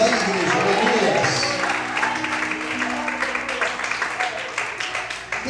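A church congregation applauds together during a worship service, a dense wash of clapping and crowd noise that stays loud and steady before thinning slightly toward the end.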